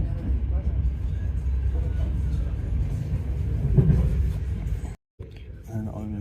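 A steady low rumble of an old passenger train in Amsterdam fills the ride, heard from a seat inside, with muffled voices underneath and a brief dropout near the end.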